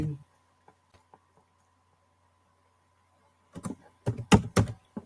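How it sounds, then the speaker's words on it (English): A username and password are entered on a computer keyboard: a few sparse, soft key taps, then a quick cluster of louder clicking keystrokes near the end, close up and in a quiet room with no talking. "So I am entering my username and possibly a password"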